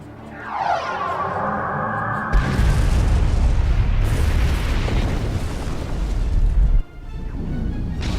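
Starship cannon fire hits in the video game Star Trek Online: a rising whine gives way to a massive booming blast and sustained rumbling roar, cut off abruptly, then another rumbling burst follows.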